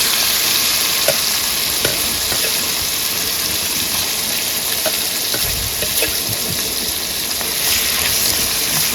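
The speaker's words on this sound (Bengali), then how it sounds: "পেঁয়াজ দিয়ে দিলাম। পেঁয়াজটাকে ভালো করে ভেজে নিয়ে তারপরে দেবো ম্যাগি।" Onions frying in oil with shrimp in a pan, a steady close sizzle with occasional crackles and stirring clinks running throughout, no talking.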